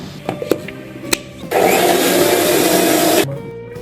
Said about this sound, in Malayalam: ഒന്ന് മിക്സിലിട്ട് അരക്കാം